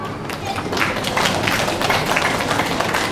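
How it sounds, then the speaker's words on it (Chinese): Audience applause at a kindergarten graduation ceremony as the principal is welcomed to speak, a dense steady clatter of clapping swelling over three seconds with no voices. "请掌声欢迎我们的大家长高园长来为我们说几句话"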